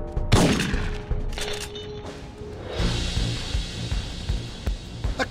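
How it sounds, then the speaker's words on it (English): Gunfire in the video game Syphon Filter 3: a sharp shot bursts out early, followed by rapid bursts of repeated shots and a dense game soundscape. "I see the safe, but I'm going to need some cover fire."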